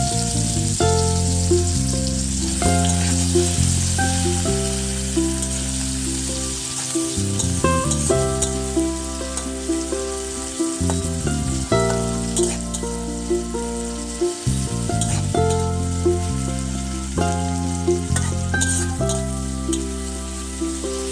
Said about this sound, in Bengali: ওই তেলের মধ্যেই কেটে রাখা পেঁয়াজটা আমরা ভেজে নেব